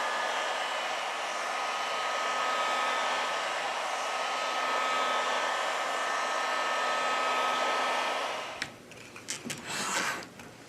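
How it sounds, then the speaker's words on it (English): A heat gun blows a steady, loud broadband roar while warming a Samsung Note 20 Ultra phone at 90 °C, holding constant for about eight seconds before cutting off into a few brief clicks and handling noises. "With the help of a heat gun, we apply 90 Celsius degrees during 4 minutes."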